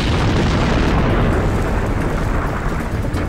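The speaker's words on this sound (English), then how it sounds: "A series of massive explosions created a crater a mile wide." Massive steam explosions rip volcanic rock apart to blast out a mile-wide crater, heard as a loud, sustained roaring rumble that fills the whole stretch and fades slightly toward the end.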